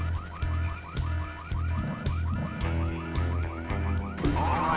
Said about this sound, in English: So set off an alarm when you go up it, but you can go ahead and climb up the ladder anyway.